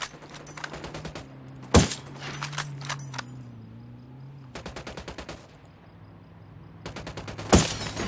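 Gunfire from the video game Ghost Recon Wildlands: several rapid bursts of automatic fire with two sharp, louder shots standing out, mixed with mechanical clicks over a low steady hum, no talking.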